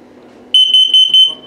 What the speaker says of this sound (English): First, it'll test for LP, then for carbon monoxide, then it'll display the or sound the low battery alarm.